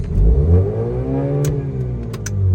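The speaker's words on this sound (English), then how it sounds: "I'm gonna rev it up" A 2004 Mazda RX-8 rotary engine with an idle problem revs up close by, a loud buzzing tone rising and falling in pitch as the throttle is blipped, with a few sharp clicks near the end.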